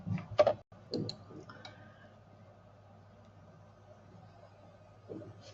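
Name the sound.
mouse click on preview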